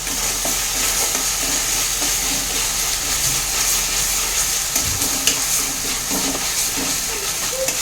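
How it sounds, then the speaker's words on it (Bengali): Spiced masala with Kashmiri red chilli powder sizzles loudly in a pan while being stirred, a constant hiss and crackle with scraping stirs, close and dense, no talking. "সুন্দর করে কষিয়ে নেব"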